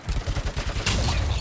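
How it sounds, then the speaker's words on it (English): Heavy machine gun fire from the video game RoboCop: Rogue City, a rapid, loud stream of regular bursts that thickens into a sustained roar of overlapping shots near the end. "Oh, they do have heavy machine guns."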